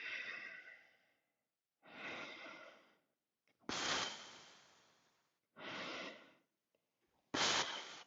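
Long breaths during a vinyasa yoga flow, five slow breathy exhales and inhales in a steady rhythm with pauses of silence between them, close and clear with no talking.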